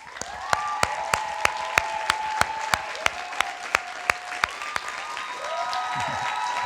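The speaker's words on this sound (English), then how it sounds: "That's a big cheer." A graduation ceremony audience claps in a steady, rhythmic beat of sharp, loud claps, with whistles and cheers rising over it and then sliding off toward the end.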